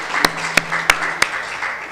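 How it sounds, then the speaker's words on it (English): At an international conference, clapping comes as four sharp, evenly spaced claps in a quick steady rhythm, loud and close, rather than as sustained crowd applause. "just a big clapping for us"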